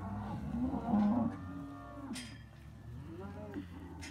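Cattle moo in low, drawn-out calls while calves are sorted from cows in a corral, one loud nearby bellow followed by quieter, more distant lows from the herd.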